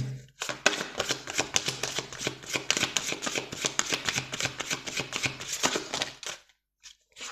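Oracle cards are riffled and shuffled in a rapid, continuous run of crisp flicking snaps close up for several seconds, then stop with a couple of soft taps as a card is drawn.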